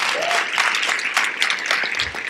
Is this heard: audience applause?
yes